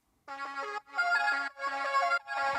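A random pluck patch from the Serum synth, heavily processed, plays a bright, buzzy, ringtone-like phrase of repeated notes in four short bursts, clear and alone with no talking.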